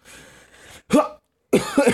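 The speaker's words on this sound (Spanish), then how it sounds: "La tos, tío." A rough, breathy exhale followed by two loud, harsh coughs close to the listener, separated by a short pause.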